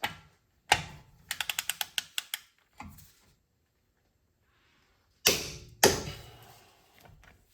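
A pin is jammed between the brake rotor slots and caliper of a BMW F-series xDrive, then a wrench torques down the front wheel bearing bolt. Sharp metallic clicks and ratcheting come in quick bursts, with close loud clanks, pauses and a final pair of heavy clicks.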